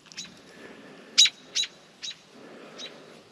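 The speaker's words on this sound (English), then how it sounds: "I am right by this bird nest, so she's a little upset with me again." An upset bird calls near its nest in a vineyard: four or five sharp, high chirps spaced irregularly, fairly faint over a soft outdoor background hiss.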